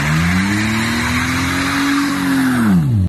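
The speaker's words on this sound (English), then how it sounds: "as soon as we got it off the trailer, immediately started doing burnouts with the car" An automatic BMW does a burnout, its engine revving hard and steady under a loud, continuous tire squeal for about three seconds. The squeal ends abruptly as the car comes off the throttle.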